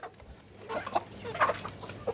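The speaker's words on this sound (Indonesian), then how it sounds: "Ini ayamnya" A chicken on a home farm gives a few soft, scattered clucks close by against a quiet background.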